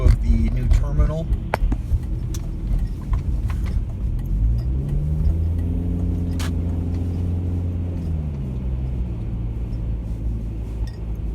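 Car engine rumbling steadily while driving slowly through the terminal area of Oshkosh airport in December, with a rising then falling engine tone midway and light clinks, close and continuous; people talk over it.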